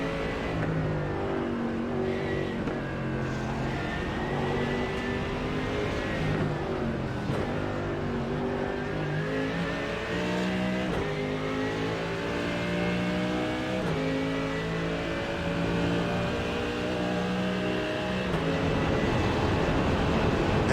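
GT3 racing cars, including Porsches and a Mercedes, roar and climb steadily in pitch as they accelerate at the Nürburgring, a loud continuous whine with gear changes along the way.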